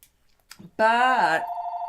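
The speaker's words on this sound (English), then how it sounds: "of course the phone rings." A telephone rings with a sustained electronic tone in a craft room, starting abruptly after a short breath-like sound and continuing loud and near.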